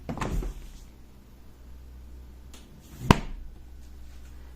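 A side-by-side fridge door opens with a sharp, close click and thud midway, framed by fainter handling knocks and a low steady hum.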